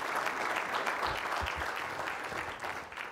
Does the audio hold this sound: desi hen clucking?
no